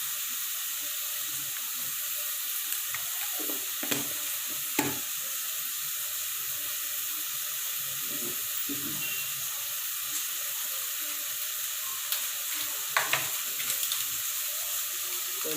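Onions, tomatoes and spices for tomato kurma sauté in a pan with turmeric, a continuous soft hiss and sizzle punctuated by a few stirring scrapes, close and without talking.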